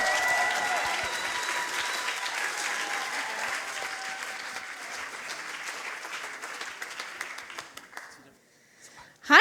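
An audience at a science slam evening applauds a speaker with sustained, full-room clapping that gradually thins and fades, followed by a brief sharp sound at the very end.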